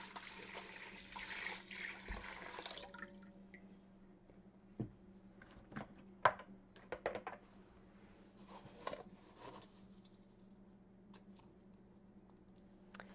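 Warm water pours from a kitchen tap into a container for pizza dough, a soft rushing stream that fades out partway, followed by scattered drips, taps and small clatters; no one talks.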